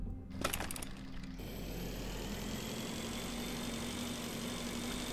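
A motorbike engine in the space game Breathedge idles at a steady low hum under a higher whine, holding constant after a brief burst of clatter at the start.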